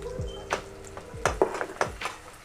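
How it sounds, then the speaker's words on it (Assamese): Spice paste of ground mustard, ginger and garlic frying in a pan, with soft sizzling under repeated scrapes and clinks of a utensil stirring against the metal, fairly quiet and close. "মছলা ফ্ৰাই কৰা হৈ গৈছে।"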